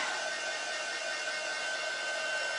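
Electric hair dryer running at reduced speed, a steady close whirring hiss with a constant high whine, alone and unbroken throughout.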